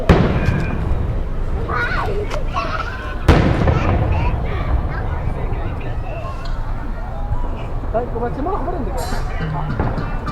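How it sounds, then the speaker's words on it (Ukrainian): Independence Day fireworks boom and crackle repeatedly, one sharp loud blast standing out, with people talking and shouting in the background. "У нас там салют і вибухи"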